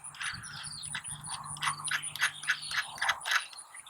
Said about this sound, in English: use our 7/16 driver head here and go ahead and tighten this down